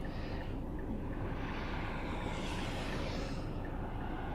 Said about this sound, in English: I'm just trying to get the little tiny bits of ice stuck to my windshield off.